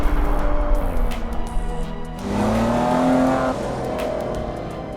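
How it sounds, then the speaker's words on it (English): Maserati engine revving close up, a deep rising note that settles into a steady sustained tone, loud and alone with no talking. "They tune the signature Maserati sound as well."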